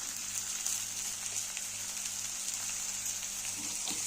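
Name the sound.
frying tomato and ginger garlic paste with potatoes in pan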